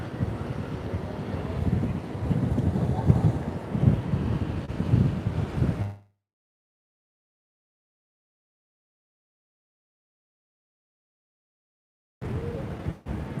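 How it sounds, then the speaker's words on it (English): Strong wind buffets the microphone on the open deck of the cruise ship Enchanted Princess sailing away from Halifax, Nova Scotia, a loud continuous rush for about six seconds, then silence before the gusting roar returns near the end. "It's very windy."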